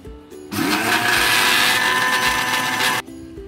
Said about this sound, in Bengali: এখন চিনি দিয়ে আমি আরেকবার একটু ব্লেন্ড করে নিব।